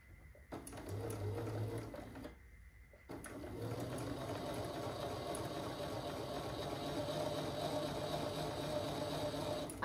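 A sewing machine stitches quilt pieces in a steady, continuous mechanical whir at close range, running nearly the whole time apart from a couple of short pauses near the start.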